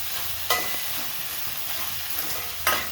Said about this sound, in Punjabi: ਇਹ ਨਾਲ ਹੀ ਹਰੀਆਂ ਮਿਰਚਾਂ ਜਿਹੜੀਆਂ ਕੱਟੀਆਂ ਹੋਈਆਂ ਸੀ ਇਹ ਵੀ ਆਪਾਂ ਪਾ ਦਾਂਗੇ ਥੋੜਾ ਜਿਹਾ ਭੁੱਜਣ